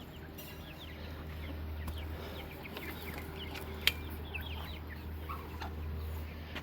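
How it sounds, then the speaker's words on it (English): Backyard chickens clucking around their coop, scattered soft clucks and chirps at moderate distance over a steady low hum, with one sharp knock midway. "I just watch the chickens"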